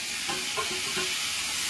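Onions sautéing in a pan over a steady hiss of frying, with a few soft scraping stirs at a gentle rhythm, close by and moderately loud, no talking.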